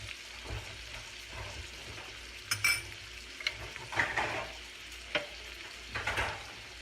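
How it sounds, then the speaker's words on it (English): Garlic sizzles in bacon grease while a utensil scrapes and clinks against the pan in irregular stirring strokes, close and steady with no one talking. "you want to give that a toss around in this bacon grease as well"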